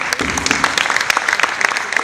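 Audience applause at a short-film premiere screening: dense, steady clapping from many hands filling the whole moment, close and fairly loud, with no voices standing out.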